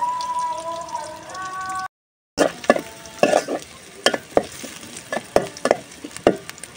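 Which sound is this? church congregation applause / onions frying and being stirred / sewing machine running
onions frying and being stirred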